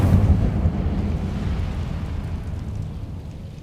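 Incendio fire spell cast in Hogwarts Legacy on PS5: a burst of whooshing flame with a low rumble at the start, easing into a steady, fading roar, with no talk.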